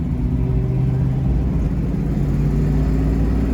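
A lifted V8 Ford Explorer with a manual transmission and 35-inch mud-terrain tires pulls hard, a loud, steady low engine rumble with shifting tonal drone, heard from inside the vehicle without talk.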